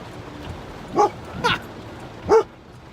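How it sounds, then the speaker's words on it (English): A dog in a car barks three times at passing pedestrians in short, sharp bursts, spaced about a second apart, with quiet background noise between. "And Ollie barks at all pedestrians near the car."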